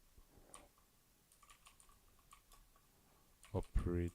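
Quick, light taps on a computer keyboard, faint and irregular in scattered bursts, followed by a voice speaking at the end.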